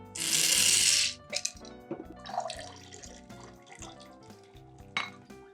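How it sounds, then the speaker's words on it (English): Topo Chico sparkling water is poured into a Ranch Water cocktail. It opens with a loud, bright one-second fizzing pour, followed by quieter drips, small clinks and bubbling over soft background music. "And our sparkling water, Topo Chico."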